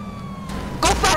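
A police-style emergency siren wails from a vehicle in Grand Theft Auto V as its lights switch on, with a steady tone first and then louder, harsher bursts near the end.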